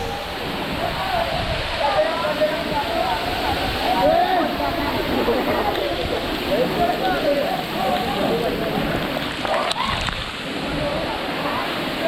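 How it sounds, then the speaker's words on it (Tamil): Baba waterfalls pour down in a loud, continuous rushing roar of crashing water, with a person talking over the steady churn throughout. "இதுதான் அந்த வாட்டர் ஃபால்ஸ், ரொம்ப ஃபேமஸான வாட்டர் ஃபால்ஸ்"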